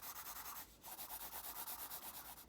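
A pencil shading on paper in a beginner's sketching lesson, giving a steady, close scratching rasp in even back-and-forth strokes with one short pause, no talking.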